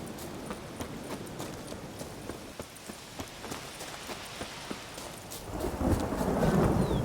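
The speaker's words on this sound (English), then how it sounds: "Damn, look at this, it's actually raining for once." Rain and thunder in The Witcher 3: Blood and Wine, a steady rainfall wash with scattered sharp drop or hoof-like ticks, then a low thunder rumble rolling in loudly toward the end.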